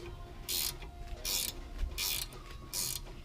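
A ratcheting wrench tightens a bolt on a 2014 Honda Accord's brake assembly, four short bursts of clicking spaced roughly evenly, close and clear with no talk.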